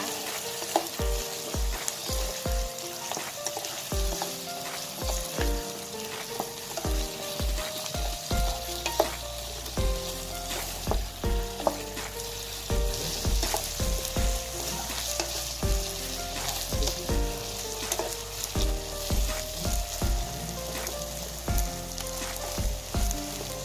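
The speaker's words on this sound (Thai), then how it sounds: "ผัดคลุกเคล้าให้เข้ากันนะคะ" Stir-frying with pickled garlic and seasoning powder in a hot pan: a steady loud sizzle with rhythmic, repeated scrapes and clanks of a spatula tossing the food, with no talking.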